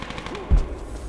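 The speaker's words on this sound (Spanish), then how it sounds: "Ojito que oigo disparos." Gunfire in the video game Rise of the Tomb Raider, heard as a single short low burst, like a shot or brief volley, rising briefly above a steady background of game ambience.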